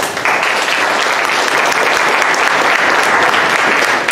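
An auditorium audience at the opening of a literature and Amazon dialogue event breaks into loud, dense, steady applause that starts abruptly and keeps going evenly throughout, with no talking over it.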